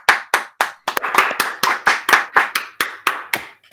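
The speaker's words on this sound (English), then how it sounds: "Can I get a round of applause?" A single person clapping a slow round of applause, about a dozen distinct close, crisp hand claps in a steady rhythm, alone without talk.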